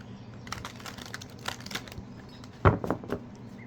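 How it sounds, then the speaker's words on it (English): A deck of cards being shuffled, a short soft riffle of rapid flutters with a sharper burst of card snaps near the end, close and fairly quiet. "we're gonna give these cards a shuffle"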